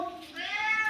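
A single short meow from a cat nearby, rising and then trailing off.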